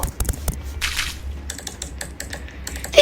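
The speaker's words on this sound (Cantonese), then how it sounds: "啲鍵盤嘅聲音有啲煩啊！" Keyboard typing sounds from the Roblox video game, a fast run of sharp, close key clicks with brief pauses and one louder tap at the end.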